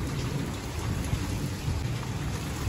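Heavy, dangerous-sounding monsoon rain pours steadily with thunder rumbling low beneath it, loud and close, with no talking.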